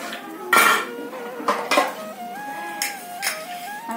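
Dishes, pots and pans clatter close by as they are handled and stacked, with irregular sharp knocks and lingering metallic ringing tones between the impacts.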